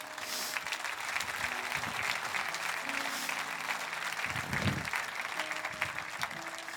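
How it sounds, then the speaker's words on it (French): A church congregation applauds steadily throughout, a dense and fairly even wash of clapping from many hands, with faint murmuring voices underneath and a brief louder swell near the end. "Vous pouvez applaudir avec moi?"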